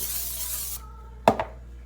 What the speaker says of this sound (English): I'm going to spray my springform pan really well with coconut oil